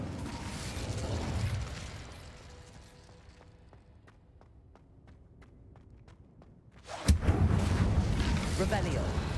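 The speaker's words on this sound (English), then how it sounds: "That's Incendio." Incendio fire spell cast in Hogwarts Legacy, a sudden loud fiery blast that erupts after a quiet stretch of soft, evenly spaced ticking steps and then roars on as a sustained rushing burn.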